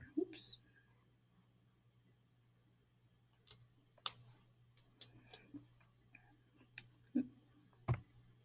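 A few sharp computer mouse clicks, scattered and fairly close, over a quiet room with a low steady hum.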